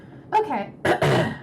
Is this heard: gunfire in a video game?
no